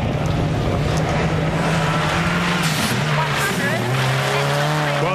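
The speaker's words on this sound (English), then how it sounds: "there's something wrong with the back of the car. You can hear it. I think he's got a puncher on the right rear." Rally car racing on a gravel stage in Otago with a punctured right rear tyre, its engine loud and close, pitch rising and falling through shifts, tyres scrabbling beneath, while a commentator talks over it.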